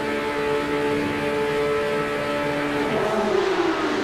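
Porsche race cars on the grid at Monza in an esports racing game, engines humming and rising in pitch together as revs build before the start, a steady layered drone that climbs near the end.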